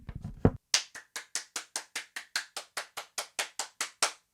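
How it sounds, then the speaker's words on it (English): A single person clapping alone at a beat-making challenge, about fifteen sharp, evenly spaced claps close to the mic after a brief handling noise at the start. "Round of applause"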